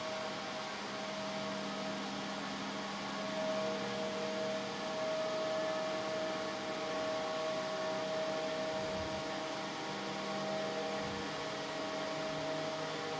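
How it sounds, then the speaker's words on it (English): The electric drive motor of the SAQ Grimeton VLF radio transmitter spinning up, a steady mechanical hum and whine with a clear sustained tone over broadband machine noise, heard from inside the hall. "you can hear the motor driving up the RPMs of the motor"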